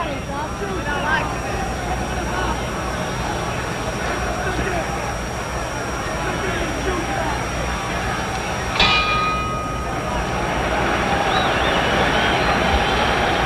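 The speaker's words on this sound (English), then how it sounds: "The bell in 10 seconds." Ringside bell at a 1963 boxing match in Madison Square Garden, one bright clang cutting through steady arena crowd noise and commentary near the end of the round.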